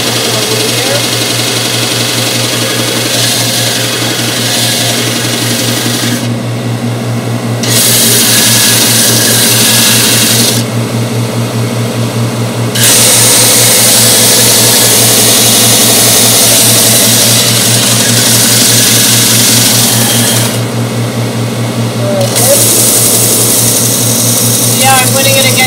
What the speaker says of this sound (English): Now we'll talk about the belt sander. The belt sander is over here.